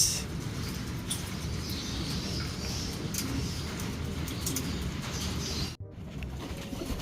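A loft of racing pigeons is being fed. Cooing and soft wing flutters carry over a busy, steady background, and a brief bump near the end breaks the sound.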